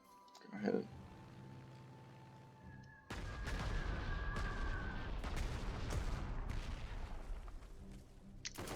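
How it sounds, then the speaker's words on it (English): Artillery fire in the Panzer Corps 2 strategy game, a short boom near the start followed by a sustained, dense barrage of rumbling blasts and crackling impacts. "Not sure why that artillery piece would attack my guy in the rear."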